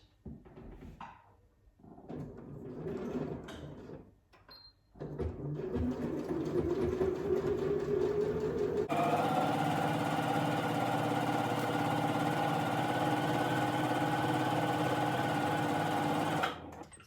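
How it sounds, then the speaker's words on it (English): Sewing machine running a straight stitch for a French seam, starting with short bursts and pauses, then a steady whirring run that holds at a constant pitch before stopping abruptly at the end. "So I'm just going to sew, as before, my usual straight stitch"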